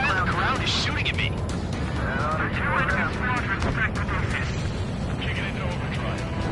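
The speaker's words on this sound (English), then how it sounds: "The guy on the ground is shooting at me." Ground fire aimed at an aircraft in the flight combat game Ace Combat 7: a dense, continuous rumble of gunfire and booms that runs through the whole stretch, with radio chatter over the top.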